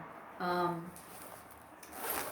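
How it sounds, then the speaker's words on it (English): A zipper on a vintage Coach handbag is pulled once, close and crisp, followed by soft handling and rustling of the bag. "It has a double zipper,"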